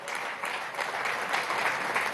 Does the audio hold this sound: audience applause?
yes